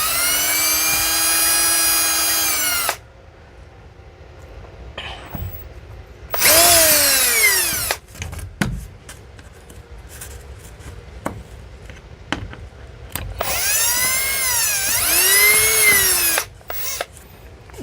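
A cordless power drill spins out loose screws in a shed being cleared out, giving several loud whining bursts that rise and fall in pitch as the motor speeds up and slows, separated by quieter pauses with small clicks and handling noises.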